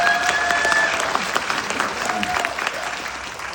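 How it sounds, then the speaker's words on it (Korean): An audience at a political gathering claps for comrades from Ulsan, producing a dense, sustained round of applause that tapers slightly toward the end. "울산 동지들에게 박수 한번 해주세요"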